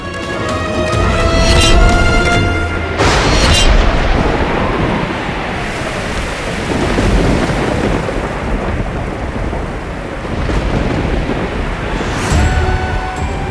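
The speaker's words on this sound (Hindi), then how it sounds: "भयंकर बारिश होने लगी है।" Heavy rain pours in a steady broadband roar with rolling thunder rumbles and gusting wind, loud and continuous throughout with no talking.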